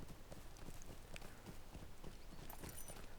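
Horse hooves clip-clop at a steady riding pace in The Lord of the Rings Online, a continuous rhythmic patter of soft thuds, moderately quiet with no voice over it.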